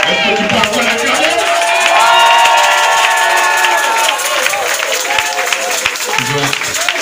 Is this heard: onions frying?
no